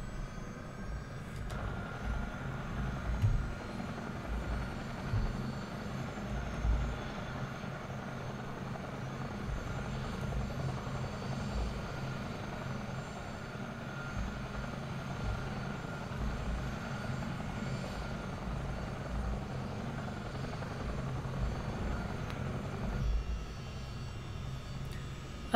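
Twin engines of a Chinook CH-47D helicopter spool up in Microsoft Flight Simulator 2024, a steady, dense turbine roar with a low rotor throb that holds loud and even throughout, with no voices.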